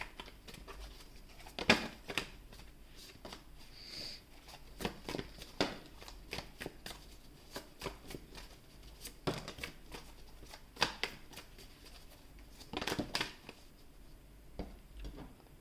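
Cards being shuffled over and over, with quick riffling bursts and soft snaps recurring through a quiet room.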